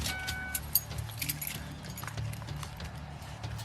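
Car keys jangling as they are passed over during a roadside traffic stop on a wet road, a light metallic clinking of several short rattles at close range over a low idling hum.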